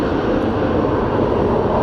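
A Boeing 737 MAX 8 airliner taxiing at night at DFW Airport, its steady low engine rumble and roar filling the scene continuously without letup.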